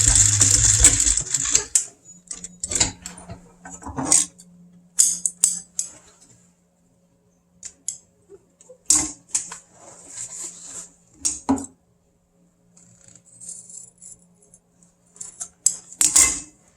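A sewing machine backstitching the edge of a boat seat cover, heard as several short bursts of stitching separated by pauses, close and fairly loud, with no talk.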